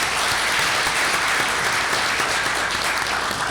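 An audience at an energy forum gives a sustained round of applause, dense, even clapping from many hands that stays steady throughout with no voices over it.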